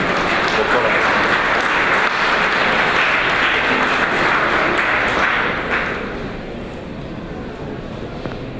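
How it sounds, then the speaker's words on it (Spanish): A seated audience at a public health lecture on natural disasters claps for the arriving speaker, a dense, fairly loud round of applause that fades after about six seconds into quieter room noise. "Recibámosla con un fuerte aplauso."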